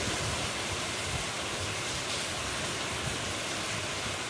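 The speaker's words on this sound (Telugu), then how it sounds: "ఇది ఏమి గాలి ఎంత వర్షం పడుతుంది చూడండి" Heavy rain pouring down with gusting wind, a dense, unbroken roar of hissing downpour that stays loud and steady throughout.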